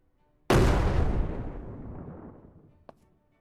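A grenade detonates in the zombie survival game SurrounDead: a single loud, close blast with a long rumbling decay, followed by a brief sharp crack.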